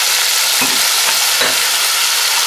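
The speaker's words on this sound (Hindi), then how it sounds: "इसमें अब ऐड करेंगे जो हमारे टमाटोज हैं, यानी कि टमाटर" Tomatoes fry with browned onions in a pan, producing a loud, continuous close sizzle broken by a few scraping stirs.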